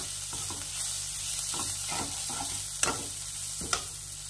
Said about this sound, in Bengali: আরও একটু সময় কষিয়ে নেব।